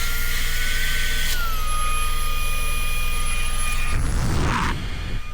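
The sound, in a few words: portable vacuum cleaner running on high setting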